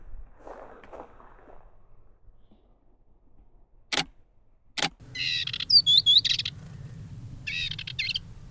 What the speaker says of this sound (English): I can't believe it. Dartford warbler.